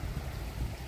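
A river in flood near a farm in St. Ann, Jamaica, rushing past close by as a steady broadband wash of flowing water with a heavy low rumble.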